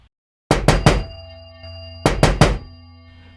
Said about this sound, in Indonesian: Kali ini ketokannya lumayan keras dan bikin gue kebangun lagi.